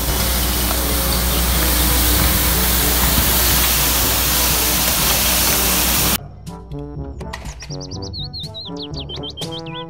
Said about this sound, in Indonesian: Road sweeper.